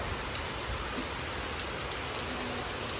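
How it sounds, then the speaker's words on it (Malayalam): Heavy rain driven by strong wind pours onto river water, heard from a shop veranda as a loud, unbroken roaring patter with no voices. "അതിഭയങ്കരമായ മഴ നല്ല കാറ്റുമുണ്ട്"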